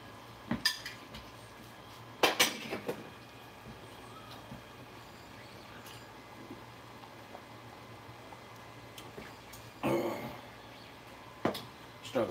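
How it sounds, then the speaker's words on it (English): Penne pasta is stirred in a pot on the stove, with a few scattered clinks and scrapes of a utensil against the metal at irregular intervals over a quiet background hum. "Stir the pasta up a little bit."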